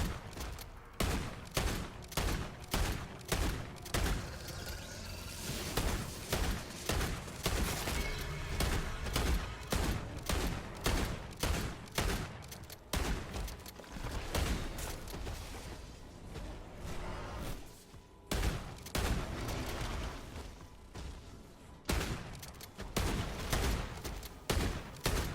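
Shotgun firing in MW3 Zombies, with rapid, loud, close blasts repeating in quick bursts and brief pauses between volleys.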